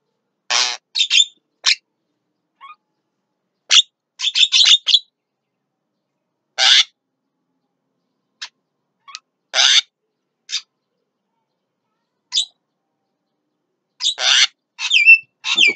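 A buffalo myna (jalak kebo), fed on chicken pellets, gives repeated short, harsh chirps and squawky calls in scattered bursts with quiet gaps between, close and fairly loud, no talking.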